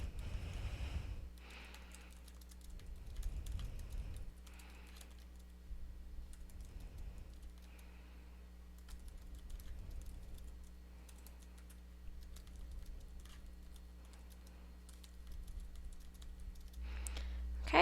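Quiet, steady tapping on a computer keyboard goes on as an email reply is typed, the clicks coming in irregular bursts over a low hum with occasional breathing.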